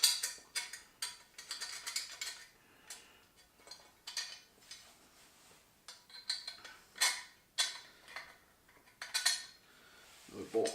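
Metal bolts and nuts clink and rattle in a steady run of sharp, close taps and jingles while being fitted to the frame of a Blackstone 28-inch griddle, with no talking.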